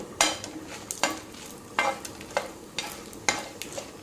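Pepper, coriander seeds and cumin are dry-fried and stirred in a pan. Sharp scraping strokes land roughly every half second to a second over a low, faint sizzle.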